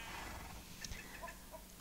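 Chickens cluck in a Minecraft farm with other livestock, several short, faint clucks scattered over a low, steady background of game ambience.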